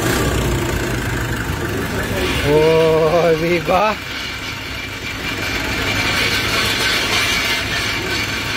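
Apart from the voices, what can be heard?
Nissan NV350 engine idling quietly after relearn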